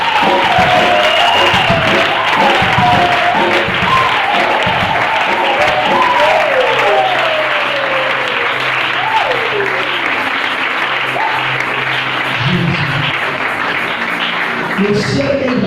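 A large audience claps and cheers steadily and loudly throughout, with voices shouting over a dense wash of applause that barely fades.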